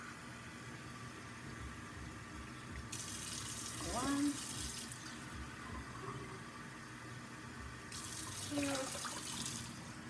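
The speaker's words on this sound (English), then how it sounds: "So I'm going to put 4 cups of water." Water pours from a cup into a rice cooker pot, two broadband bursts of splashing a few seconds apart over a low background hum, while a person counts aloud.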